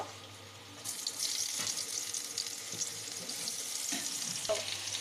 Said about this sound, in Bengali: দুটো শুকনো লঙ্কা ভাজা হয়ে গেছে এবার পেঁয়াজ কুচি দেবো